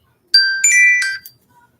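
A mobile phone ringtone plays a short, bright electronic melody of a few clear tones, loud and close, with no talking over it.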